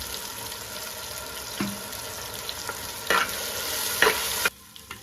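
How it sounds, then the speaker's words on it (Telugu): Tomato puree fries in oil for a Nellore-style fish curry, a quiet continuous sizzle broken by several scraping stirs of the pan before the sound cuts off abruptly. "ఇలా ఆయిల్ బాగా పైకి తేలేంత వరకు దీన్ని వేపుకుందాం ఫ్రెండ్స్"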